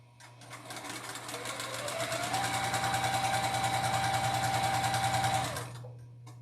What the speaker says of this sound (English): So I'm going to sew across there.